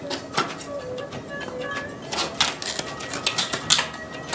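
A knife blade taps repeatedly on a coconut shell to loosen the meat, giving sharp, close, irregular clicks that cluster more densely toward the end over a low background murmur.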